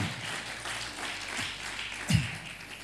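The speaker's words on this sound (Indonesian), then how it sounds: "Tepuk tangan dulu supaya pecah." Church congregation applauding during a Sunday afternoon worship service, a steady broad wash of clapping with a sharper burst near the end.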